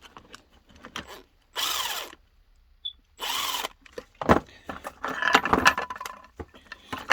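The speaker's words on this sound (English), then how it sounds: "must drill a little bit inside because it's not" A power drill bores into a Makita power-tool battery pack during a repair, running in several short close bursts with handling clatter and metallic rattling between them.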